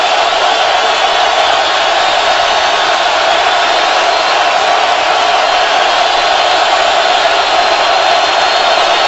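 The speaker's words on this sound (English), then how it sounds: "This crowd is going nuts." A dense stadium crowd roars steadily at a 2012 Patriots at Seahawks NFL game in Seattle right after a Seahawks touchdown, a loud unbroken wall of cheering with no distinct voices standing out.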